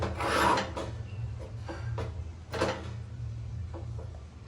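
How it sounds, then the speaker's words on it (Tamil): A utensil scrapes and stirs thick rice porridge batter up from the bottom of a pan in a series of rasping strokes, close and fairly quiet, with no talking. "இந்த அடியிலேருந்து பெரட்டி கிண்டி விடுங்க."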